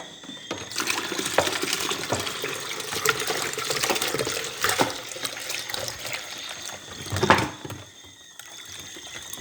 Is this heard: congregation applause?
no